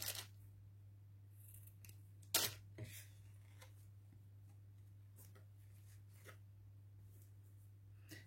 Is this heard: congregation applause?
no